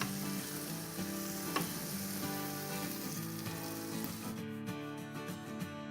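Salmon sizzles in a pan on a stove with a loud, dense crackle that holds steady before dropping away near the end, heard close up with no speech.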